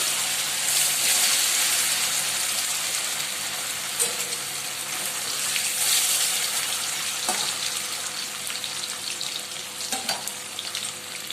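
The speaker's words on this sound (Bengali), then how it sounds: "এবার পনিরগুলো হালকা করে ভেজে নেব।" Paneer pieces frying lightly in hot mustard oil, a steady hissing sizzle throughout with occasional soft clinks and scrapes of stirring, no speech.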